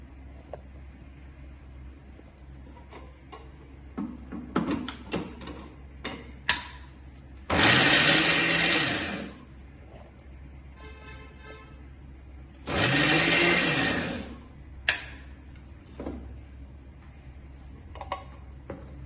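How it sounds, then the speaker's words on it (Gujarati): A mixer grinder coarsely grinds corn in a jar, two loud whirring bursts of a couple of seconds each, with clicks and knocks of handling the jar around them. "એક મિક્સર જારમાં લઈને એને અધ કચરા કરી લઈશ"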